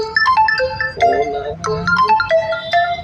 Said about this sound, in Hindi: देखो किसका फोन आ रहा है